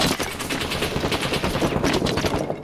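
Rapid, continuous gunfire rattles in the shooter game Six Days in Fallujah, bursts overlapping into a loud, dense barrage with no voices.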